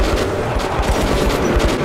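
Gunfire in Metro 2033 Redux: a dense, loud, continuous rattle of rapid shots with a heavy low rumble, sustained without a break.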